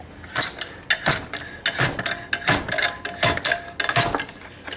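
A hand-operated french fry cutter is struck repeatedly to push a potato through its blades, giving about a dozen sharp, close metallic clacks in a quick, uneven rhythm with no voices.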